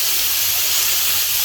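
Tomatoes and green chillies frying in a pan, a steady broad hiss of sizzling oil running evenly and moderately loud throughout, with no voices.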